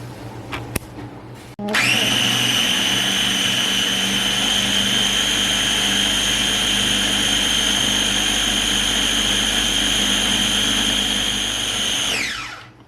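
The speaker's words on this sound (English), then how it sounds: "we are going to puree this pumpkin" A blender purees fresh garden pumpkin for pie. The motor jumps into a loud, steady high whine that holds for about ten seconds, then winds down and stops, after a few brief clunks while it is set up.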